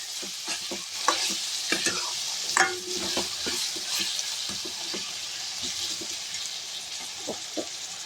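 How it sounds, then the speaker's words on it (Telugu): Salted moringa chicken curry sizzles in a pan while a spoon stirs it, scraping and clinking in scattered strokes over a steady, moderate frying hiss. "సాల్ట్ వేసినాక ఒకసారి కలుపుకుందాము"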